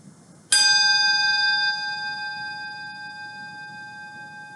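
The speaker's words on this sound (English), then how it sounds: "I'm going to ring my bell one more time." A single strike of a mindfulness bell rings out clearly in a quiet room, a bright clear tone that sustains and slowly fades without any other sound.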